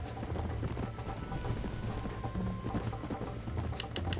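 Horse hooves clip-clop at a steady galloping rhythm in the video game Red Dead Redemption, fairly loud and continuous over soft background ambience, with no talking.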